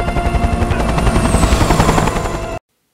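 Helicopter flying overhead in Left 4 Dead, a loud continuous rotor chop with a steady engine drone, close and unbroken until it cuts off abruptly.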